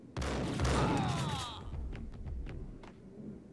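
Gunfire in the PC game Max Payne: a loud burst of overlapping shots up front, then scattered sharper cracks fading off at a distance against a busy background.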